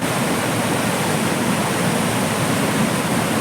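Water pours steadily over a mini dam on the Kallada river, a constant close rushing roar that fills the whole clip with no break or change in level.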